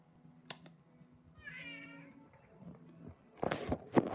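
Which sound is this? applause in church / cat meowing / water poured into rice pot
cat meowing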